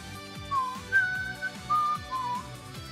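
A person whistles a short tune: a few sustained, wavering tones heard over pinball machine sounds and background music.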